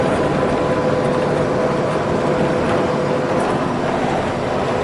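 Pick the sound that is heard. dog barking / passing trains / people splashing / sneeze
passing trains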